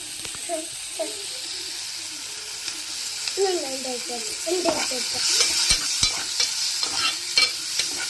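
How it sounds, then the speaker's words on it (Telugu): Onions fry in oil in a pan with a steady, fairly loud sizzle broken by clicks and scrapes of stirring, while voices murmur in the background. "ఇదిగోండి ఉల్లిపాయలు అయితే ఏగుతున్నాయి. ఆయిల్ అయితే సరిపోలేదు."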